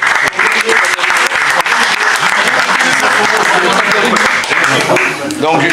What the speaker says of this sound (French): Donc comme il n'y en a plus qu'un, on peut applaudir Hugo aussi